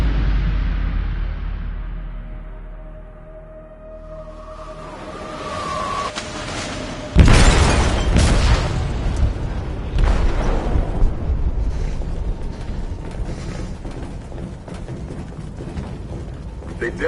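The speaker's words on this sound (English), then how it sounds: "They detonated an explosive in the hold." Inside a ship's hold in a video game, an explosive goes off as a sudden loud blast after a quieter stretch, then the rumble and debris clatter carry on.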